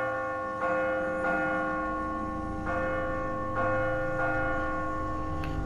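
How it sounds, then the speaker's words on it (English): Repeated strikes of a large dinner bell in The Walking Dead video game, several loud metallic clangs with long ringing overtones, spaced irregularly and heard alone without talk. "Bring the dinner bell."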